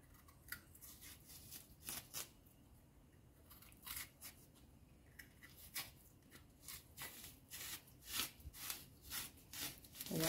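Cassava being peeled by hand with a knife in a home kitchen while preparing a Jamaican breakfast: a steady run of close, crisp scraping and crunching strokes, irregular but continuous, with no talking.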